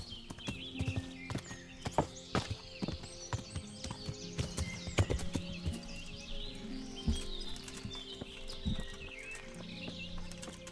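Horse hooves clip-clop steadily on a ridden horse in the medieval video game Kingdom Come: Deliverance, with an occasional whinny and faint birdsong in the background.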